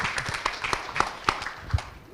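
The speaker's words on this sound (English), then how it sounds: "Maybe give a big round of applause for the report once again." Applause from an audience at the Empowering Indonesia 2025 report launch event: scattered, uneven clapping with a few sharper claps over a low room murmur.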